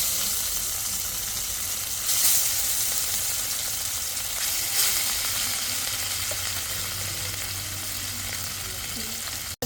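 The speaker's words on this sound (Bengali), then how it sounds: "কড়াইতে আমি তেল দিয়ে দিয়েছি, এখন আমি মাছটা ভেজে নিব।" Rohu fish frying in hot oil in a wok, a loud, continuous close sizzle with a couple of brief sharper spatters, no voices over it.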